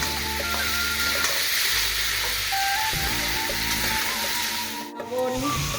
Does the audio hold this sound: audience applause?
no